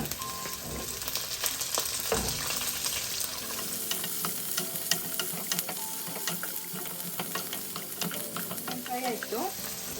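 Onion fries with ginger in a pan for restaurant-style chilli chicken, making a dense crackling sizzle with frequent sharp pops and stirring clatter. Close and steady for the whole stretch, with no voices.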